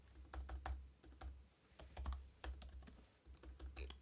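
Close, quiet typing on a computer keyboard, a run of crisp individual keystrokes in uneven bursts with brief pauses, set against a low steady hum and no talking.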